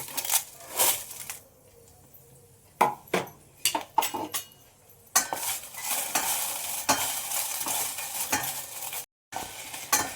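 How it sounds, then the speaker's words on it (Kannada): Byadgi dried red chillies frying in a pan, with a continuous sizzle, repeated clinks and scrapes of stirring against the pan, and a brief silent gap near the end. "ಒಂದು ಐವತ್ತು ಬ್ಯಾಡ್ಗಿ ಮೆಣಸಿನ್ಕಾಯಿ ತೊಗೊಂಡಿದ್ದೀನಿ ಇದನ್ನು ಈಗ ಹಾಕೊಂಡ್ಬಿಡೋಣ"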